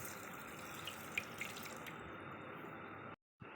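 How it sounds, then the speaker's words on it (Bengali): A glass of water poured into a blender holding peeled lychees and sugar: a quiet, steady stream of water with a brief break near the end. "1 গ্লাস পানি দিয়ে দেবো।"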